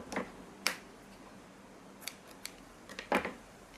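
Scissors snipping through fabric or thread for a small hand-stitched book, a handful of quiet, crisp cuts spaced irregularly, close by, with no talking.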